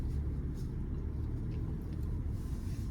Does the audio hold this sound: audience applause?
no